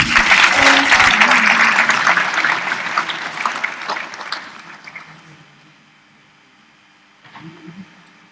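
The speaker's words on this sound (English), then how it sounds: "Makofi kwake tafadhali." A crowd at a Model UN opening ceremony in Tanzania applauds loudly for several seconds, the clapping thinning and fading out, followed by a brief burst of low murmuring voices.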